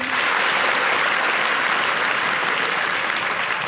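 A hall full of students claps loudly at a live guidance event, a dense, steady wall of applause that holds at full strength from start to finish without a break.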